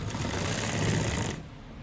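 A sewing machine stitches the collar band onto a gents kameez, running in a fast, steady, close whirring rattle before stopping abruptly near the end.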